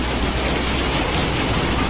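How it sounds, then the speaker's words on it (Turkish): Dense, steady patter of rain fills the whole stretch, close and constant, with no voices. "Hey yağmur yağıyor."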